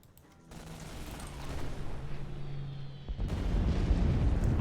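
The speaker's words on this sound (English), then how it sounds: "This looks like a high altitude bombing to me." Explosions from a high altitude bombing run in the KARDS card game, a rumbling low roar that swells and builds into heavy, continuous booming without any voices.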